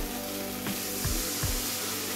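Water poured into a hot pan of frying potatoes with garam masala for an egg omelette curry bursts into a loud, steady sizzle with hissing spurts, close up and without talking.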